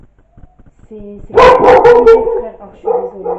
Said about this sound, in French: c'est mon chien, il pète le plomb